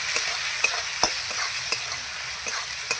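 Turmeric, salt and spices sizzle in hot oil in a pan while a spoon stirs them, making a steady frying hiss broken by repeated scraping strokes, with no talking.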